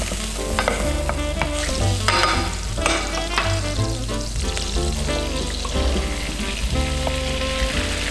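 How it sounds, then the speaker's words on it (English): Butter and all-purpose flour cook and are stirred in a pan while making a brandy sauce, with a soft sizzle and steady stirring running under constant, fairly loud background music throughout. "melt it down nice and gently in the pan, and as soon as the butter's melted, in with our all-purpose flour"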